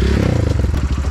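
A standard street motorcycle rides over rocks, its engine chugging in rapid loud pulses mixed with clatter and scraping, close up, no talking.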